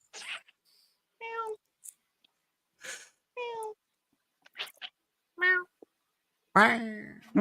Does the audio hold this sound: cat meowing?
yes